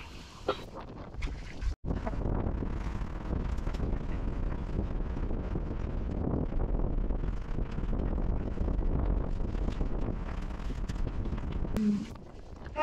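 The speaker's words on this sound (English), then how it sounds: "It's a bit windy out here." Gusty wind outdoors at an airport freight terminal buffets the microphone in a constant low roar, briefly cutting out once and easing near the end.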